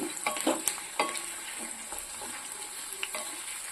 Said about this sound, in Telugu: మీడియం ఫ్లేమ్లో పెట్టుకుని వేయించుకుంటే బాగా వేగుతాయి